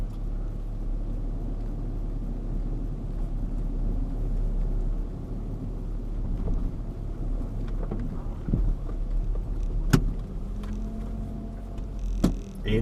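A car with an automatic gearbox backs away on a racetrack, heard as a steady low engine rumble with wind buffeting and a few sharp knocks near the end.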